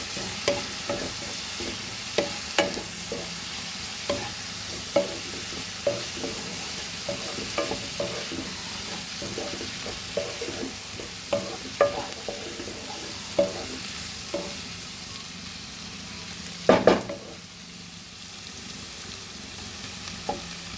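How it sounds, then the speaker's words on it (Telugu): Onions frying in a pan with turmeric sizzle softly and steadily while a spoon stirs in regular scraping clicks, with one louder clatter near the end and no voices. "చూడండి, ఆనియన్లు వేగుతున్నాయి ఇట్లా."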